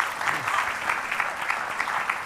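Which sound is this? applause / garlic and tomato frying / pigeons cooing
applause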